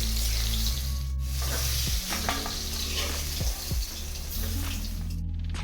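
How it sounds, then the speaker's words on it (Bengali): Pointed gourd (potol) fries in oil in a pan, giving a constant close sizzle broken by a few scraping stirs and clatters. "বন্ধুরা, এবার আমার পটলগুলো লাল লাল করে ভাজা হয়ে গেছে।"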